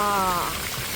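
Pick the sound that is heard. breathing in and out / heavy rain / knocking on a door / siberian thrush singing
heavy rain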